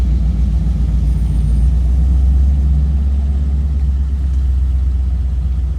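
A 1940 Ford Deluxe business coupe with a 1953 Mercury V8 and Columbia two-speed axle drives along, its low engine rumble and road drone steady and loud throughout from inside the cabin, with no talking.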